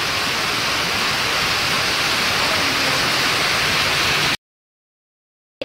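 Heavy rain pours down as a dense, steady roar of hiss, loud and unbroken for about four seconds before cutting off abruptly to silence.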